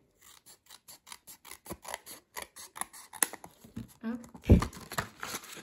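Plastic packaging of a scrapbooking cutting die being opened, a rapid series of close crinkling, snipping sounds that ends in louder rustling and tearing, with a voice talking over part of it.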